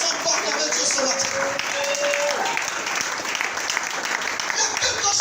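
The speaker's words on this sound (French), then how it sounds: "Est-ce que tu peux acclamer Dieu ce matin?" A church congregation claps and cheers together in praise of God during a service, a steady, dense roar of applause that carries on throughout, with voices mixed into the crowd.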